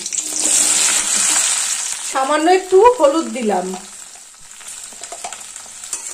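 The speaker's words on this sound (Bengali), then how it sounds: "গ্যাসের ফ্লেমটা মিডিয়ামে রেখে 2-3 মিনিট ভেন্ডিটা ভেজে নেব" Sliced okra frying over a medium gas flame in hot oil with black cumin seeds and green chillies gives a steady, close sizzling hiss, and a voice speaks briefly over it midway.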